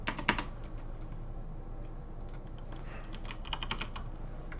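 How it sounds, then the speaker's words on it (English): Keys clatter on a computer keyboard as a short word is typed, a quick burst of taps at the start followed by scattered lighter clicks over a steady low room hum, close and moderately quiet. "all we have to type is wiggle"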